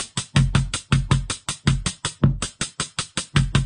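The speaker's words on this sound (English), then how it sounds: "is it decay that makes the 808 sound like" Roland 808-style bass hits programmed on an MPC X with decay adjusted, a steady fast run of booming punchy notes, each swelling and fading quickly, loud and alone without talk.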